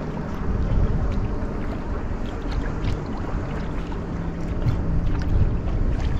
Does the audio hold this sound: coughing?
no